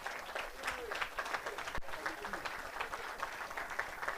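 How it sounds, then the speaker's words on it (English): Conference audience at a climate justice summer school in Nairobi applauds staff with steady, dense clapping throughout, a sharp knock partway through. "Let's applaud them."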